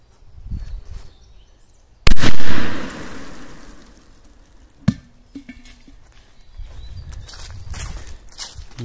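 A sharp, loud firecracker bang bursts out under a metal can and rumbles away, followed by a smaller crack a few seconds later amid faint outdoor rustling.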